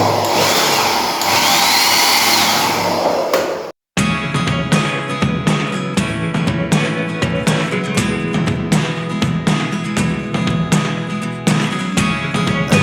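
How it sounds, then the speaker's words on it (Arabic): A hair dryer runs in a resort apartment bathroom in Hurghada, giving a loud, steady whooshing roar for nearly four seconds. It cuts off abruptly and is followed by rhythmic music with a pounding beat. "في هنا استشوار في المكان"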